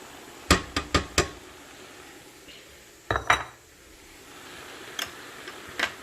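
Spoon scrapes and knocks against a bowl as the rest of the onions go into a cooking pot of collard greens: a quick run of four clinks, a pause, a pair of sharper taps, then a few fainter ticks, close and fairly quiet.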